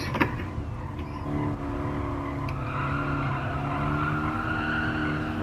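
A car engine drones at high strain around 117 km/h on a race circuit, with a sustained tire squeal from understeer and a brief skid over the continuous road noise.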